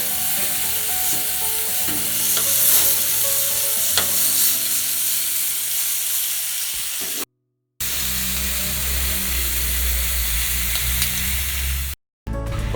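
Scored chicken pieces fry in a pan and are turned so both sides brown, giving a steady, loud sizzle with occasional stirring and scraping, broken by two brief silences.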